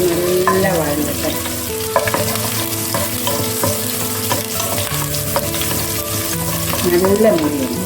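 Close, continuous crackling sizzle of green chillies frying in hot oil at home, with spoon-and-pan scrapes as they are stirred and no talking.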